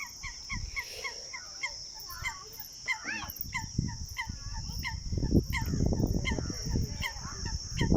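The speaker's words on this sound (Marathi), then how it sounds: "पक्ष्यांचा आवाज." Many birds honk and call repeatedly in a noisy chorus at the Nira River near Soneshwar Temple, Baramati, with a steady high whine and rumbling background throughout, at moderate distance.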